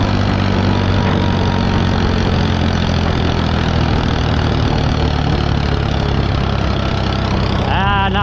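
A farm tractor engine labours uphill pulling a hay load, a loud, steady, heavy diesel drone that fills the whole stretch without letup, close to the listener, with no talk over it.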